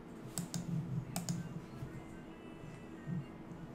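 Quick bursts of keystrokes tap on a computer keyboard close up, with short clusters of clicks separated by brief pauses, quiet and alone.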